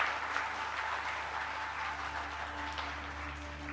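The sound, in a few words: clapping by the audience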